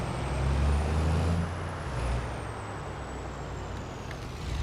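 A truck in Farming Simulator 25 rumbles low and close, with a heavier surge of engine and brake noise early on before settling into a steadier, quieter drone.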